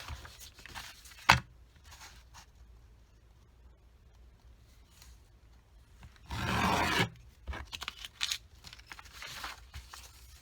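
Scissors cutting out a paper piece for a flipbook: a few soft rasping snips and one louder sustained cut, close and quiet, with no talking.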